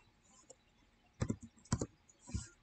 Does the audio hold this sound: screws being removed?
no